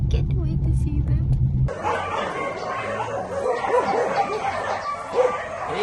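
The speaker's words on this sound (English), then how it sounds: "Let's go to see our fur babies, our 2 new fur babies." Two young rescue puppies yip and bark in short bursts, close by, with people talking over them and a car rumbling faintly, after an abrupt shift from a quieter indoor hum.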